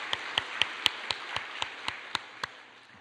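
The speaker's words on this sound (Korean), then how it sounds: "우리 할렐루야 찬양대 격려하면서 우리 박수로 한번 격려합시다" A church congregation claps in unison to encourage the Hallelujah choir. About ten sharp, evenly spaced claps come at a steady rhythm of roughly four per second in a reverberant hall, then fade out.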